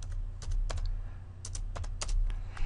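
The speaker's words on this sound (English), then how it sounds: "you can chat with your visitors by simply typing in the text box here" Someone types on a computer keyboard in a chat text box, with quick irregular clusters of close key clicks and brief pauses, with no voices.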